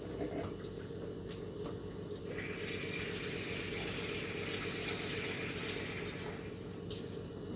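Water pours steadily into a cooking pot for Alexandrian koshari, a continuous rushing splash that brightens and fills out partway through, then tapers near the end, alone with no talk.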